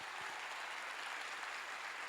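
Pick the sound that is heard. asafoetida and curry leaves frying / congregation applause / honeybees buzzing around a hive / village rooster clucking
congregation applause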